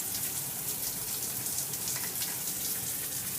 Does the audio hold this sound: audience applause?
no